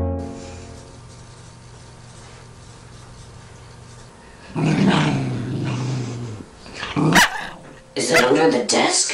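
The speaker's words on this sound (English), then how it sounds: "Come on, dog. Either stop growling or kill it." A dog growls in a long, low rumble that lasts several seconds, then barks sharply in short bursts, with speech running through and around it.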